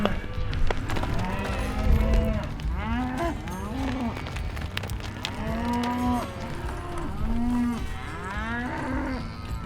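Heifers and cows moo repeatedly during sorting on a cattle farm, several loud drawn-out calls overlapping one another at close range over a rumbling yard background, with hooves shuffling and some indistinct human voices mixed in.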